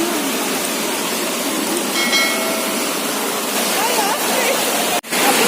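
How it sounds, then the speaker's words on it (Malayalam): Steady rushing water of Adyanpara waterfall in the Nilambur forest, a continuous broadband roar filling the whole stretch at close range with no talk over it. "അപ്പൊ ആട്ടിൻപാറ വെള്ളച്ചാട്ടത്തിലാണ് നമ്മളുള്ളത്"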